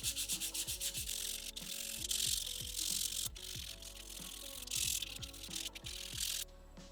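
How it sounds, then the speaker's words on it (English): A Dremel with a sanding bit and sandpaper grinds along laser-cut wood edges, a close, steady abrasive rasp with rhythmic scraping strokes and a brief pause, no voices. "All I have here is a Dremel with a sanding bit and a piece of sandpaper here, and you just go to town."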